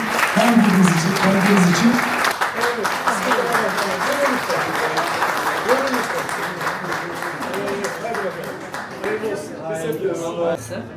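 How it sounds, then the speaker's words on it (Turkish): Audience applause during a speech at a museum event, sustained clapping that starts loud and tapers off, with someone speaking over it. "Özden Hocama, çalışma ekibime çok teşekkür ediyorum ve alkış istiyorum onlar için"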